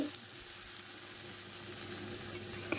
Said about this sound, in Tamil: நண்டை சேர்த்து நல்லா ஒரு பரட்டி பரட்டி எடுத்துக்கிடுவோம்